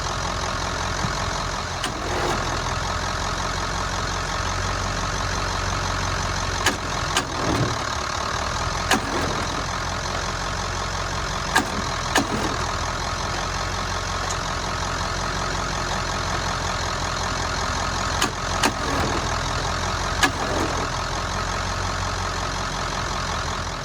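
A Ford engine runs at a steady idle while hooked up to crank a seized Mighty Mac 8C skid steer, a continuous low rumble broken by occasional sharp clanks and knocks, close and fairly loud with no speech.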